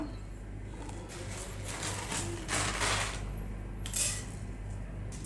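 Coriander seeds, about one and a half tablespoons, tumble into a hot pan while spices are being dry-roasted for Al Faham chicken masala. They make a soft, scattered rattle with a couple of brief louder bursts of sizzle and clatter over steady background hum.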